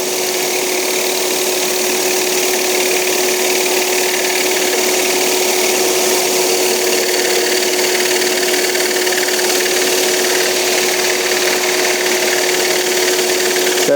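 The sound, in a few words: saw blade cutting wooden bird shape for automaton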